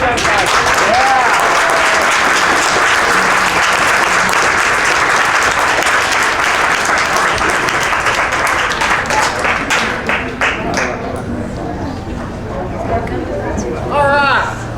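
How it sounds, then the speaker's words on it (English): Loud, sustained applause and cheering from an outdoor audience after a staged Old West gunfight show at Boot Hill in Dodge City, Kansas, a dense clapping wash that thins toward the end with voices mixed in. "How about a big round of applause for the world famous Boot Hill Gun Fight?"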